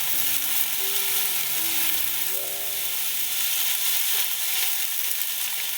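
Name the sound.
stir-frying kimchi fried rice with garlic chives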